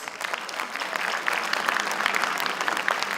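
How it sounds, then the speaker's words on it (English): An audience at a conference applauds, a dense, steady burst of clapping from many hands that builds quickly and carries on for several seconds. "A big round of applause, please."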